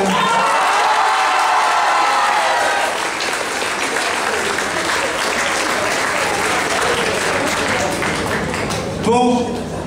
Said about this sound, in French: Donc je vais demander un tonnerre d'applaudissements pour Carole, s'il vous plaît.